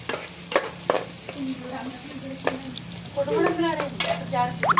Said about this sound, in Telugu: ఇదిగో ఉల్లిపాయలు ఫ్రై చేస్తున్నానండి చూడండి